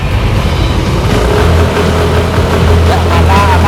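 A Yamaha Aerox scooter engine revving hard against an ECU rev limiter set at 5000 rpm, a loud close buzzing drone with repeated stuttering cuts as the limiter catches.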